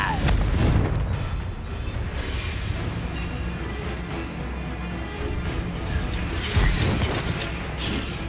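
Explosive Confringo spell bursts in Hogwarts Legacy duel combat, deep booming blasts at the start and near the end over continuous rumbling battle noise.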